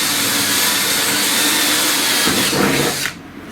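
A power drill boring pilot holes into the outside panel of a machine, a loud steady whine held close for about three seconds before cutting off abruptly.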